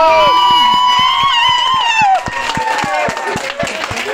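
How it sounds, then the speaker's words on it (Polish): Wedding guests clap in a steady rhythm during the first dance, with the even beat of many hands carrying clearly alongside the music. "Oczywiście wielkie brawa i raz aplauz!"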